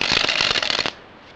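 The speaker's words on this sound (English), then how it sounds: "I really do like the dribble on these cards." Streamline playing cards dribbled from hand to hand, a quick close burst of crisp flicking clicks that patter for under a second and then stop, leaving quiet.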